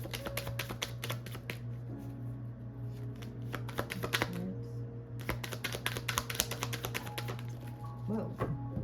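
Tarot cards are shuffled in a quick, close, crisp riffle of papery flicks and taps that continues steadily, with occasional quiet speech and a steady low hum underneath.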